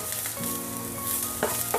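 Minced garlic and ginger stir-fried in hot oil give a loud, steady sizzle with brief scraping stirs, close up and without talk.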